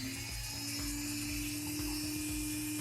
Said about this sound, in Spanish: Utilizando el Dremel con una piedra de pulir, vamos a ir haciéndole toda esta texturita.